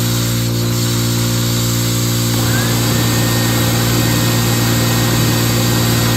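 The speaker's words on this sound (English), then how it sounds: "Let's turn the red sander on." A red electric sander whirs steadily alongside a small air compressor, both running loud and continuous under a constant hum, the sander's pitch joining in partway through.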